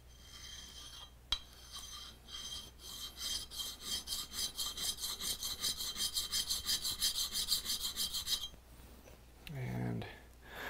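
A dull A2 steel plane blade with a low-angle bevel is rubbed back and forth on a sharpening stone in steady rhythmic strokes, close and clear, before stopping; a brief voice follows at the end.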